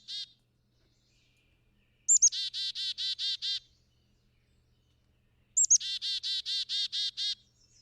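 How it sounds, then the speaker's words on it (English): A black-capped chickadee calling twice, each a quick high whistled pair of notes followed by a rapid run of buzzy repeated dee notes, clear and isolated against near silence, with a faint short chirp at the start. "Black-capped chickadee give their chickadee-dee-dee."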